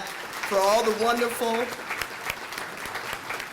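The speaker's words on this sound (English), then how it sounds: "I think we should applaud him for that" Audience applause at a cardiac arrest survivors celebration, a steady wash of clapping beneath a speaker's voice that carries on over it through the whole stretch.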